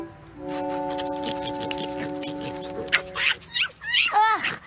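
A person imitating a dog, playing at being a squirrel dog, gives a run of whiny, yipping whimpers and squeaky barks over a steady tonal background and other voices, growing louder and more frantic toward the end.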